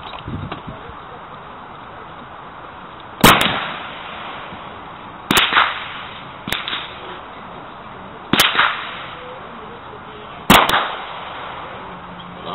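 A .72 calibre matchlock/flintlock musket fired outdoors, five sharp cracks spread across the clip with short decaying echoes, over a faint background of rustling.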